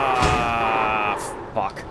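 In the iRacing video game, a Porsche GT4 race car crashes at Summit Point: a loud crunching impact with a slam and thud rings out over a steady engine drone, followed by a brief voice.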